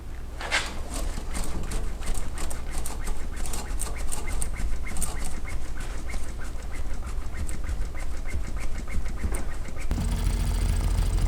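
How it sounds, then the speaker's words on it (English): A fuel overflow valve squawks raspily and rapidly, repeating steadily over a loud low engine-like rumble from a Cummins engine during a lift pump install, continuous and close, with no talking. "pump this plunger right here until you hear the overflow valve up here squawking"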